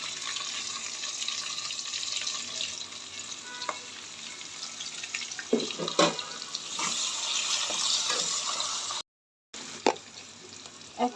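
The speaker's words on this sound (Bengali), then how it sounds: "ভাজা মাছের ওই তেলে আমি পেঁয়াজটা দিয়ে দিচ্ছি।" Onion sizzles in the oil left from frying fish: a continuous moderate crackle with a few sharper clinks of a spatula stirring, briefly cut off near the end.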